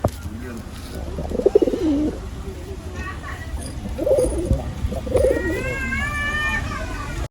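Pigeons coo in a loft in low, burbling phrases, some close and some softer, while a person talks intermittently nearby.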